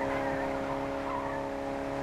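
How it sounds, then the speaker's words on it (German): Car driving and skidding in the video game Fortnite: a steady engine drone runs throughout with a continuous tire-screech texture, loud and unbroken, with no talk over it. "Margo, jetzt kannst du fahren, genau."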